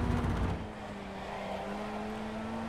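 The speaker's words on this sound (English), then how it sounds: "I'm just revving it out in first." Formula Ford FF1600 race car engine in the iRacing sim held high in first gear at Winton Motor Raceway, a steady sustained buzzing drone with a slight dip after the first half second.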